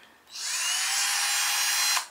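A Cheston cordless 10mm drill spins up and runs at a steady, high-pitched whine for nearly two seconds. It sounds close and loud, then cuts off abruptly.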